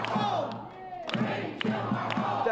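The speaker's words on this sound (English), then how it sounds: "Marylanders applauding their Senator Chris Van Hollen" Maryland supporters cheer and whoop for their senator, Chris Van Hollen, a crowd roar with rhythmic thumps and raised voices rising and falling in waves, fairly loud and close throughout.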